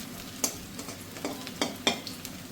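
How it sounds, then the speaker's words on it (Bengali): Quiet sizzling of bitter gourd leaves frying crisp in a pan, with a few soft scraping stirs and clinks of a spatula, no voices. "ঠিক এইভাবে লাল লাল করে মুচমুচে করে আমি এগুলোকে ভেজে নেব"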